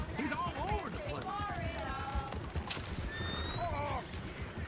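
Horses in the Red Dead Redemption 2 video game whinny repeatedly and clip-clop under steady game noise, with people talking throughout.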